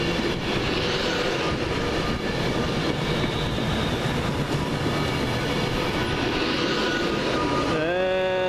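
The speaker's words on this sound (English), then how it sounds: "Coming in at 10:43, Virgin train service from Euston to Liverpool Lime Street." A Virgin train service from London Euston pulls into Crewe station on a rainy day, its rumbling engine and rolling wheels steady and loud throughout, with a tonal whine rising near the end as it slows.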